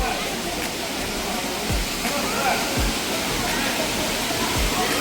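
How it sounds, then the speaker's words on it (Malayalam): Kutralam's Five Falls waterfall roars as a dense, steady rush of falling water that fills the whole scene, with a few faint low thumps beneath it. "5 ഫാൾസ് എന്ന് പറഞ്ഞാൽ 5 ആയിട്ട് വെള്ളം ഒഴുകുന്നു"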